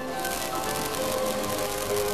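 Steady rain falls in a cartoon scene, a dense continuous patter with soft crackling drops, no voices.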